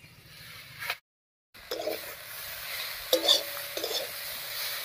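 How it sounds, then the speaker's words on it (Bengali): A metal lid is lifted off a pot of kolmi (water spinach) greens cooking in a village-style kitchen, giving a couple of short clanks with a faint metallic ring over a low background hum after a brief dropout. "এবার ঢাকা তুলে নিচ্ছি।"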